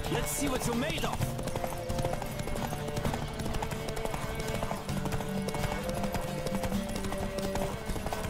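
A galloping horse in a Witcher 3 race, with a loud, steady stream of quick hoofbeats close by and music and talking layered over it.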